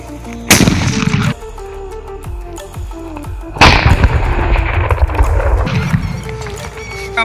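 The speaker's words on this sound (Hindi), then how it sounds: "आपने देखा जो हमारा सूतली बम था" Sutli bomb Diwali firecrackers set off in a hole in the ground: two loud, booming blasts a few seconds apart, each followed by a rumbling, crackling tail of debris and echo.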